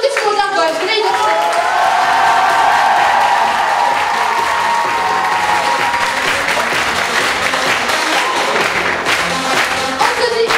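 Audience applause at a live show, sustained dense clapping that stays loud and steady throughout, with a crowd murmur and occasional cheers blended into the ovation.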